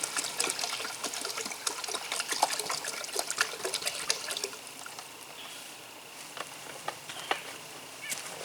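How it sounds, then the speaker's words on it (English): Water is poured into a pot of red beans and rice ingredients, a faint, continuous splashing trickle with scattered drips and clinks that eases toward the end. "I'm going to go ahead and add the water, which right now is 6 cups."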